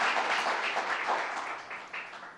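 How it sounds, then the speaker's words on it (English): An audience claps at a government event on reducing infant and maternal mortality. The crisp, continuous applause slowly thins and fades toward the end. "Let's give a huge round of applause to Rodnice Bichat Hermelin"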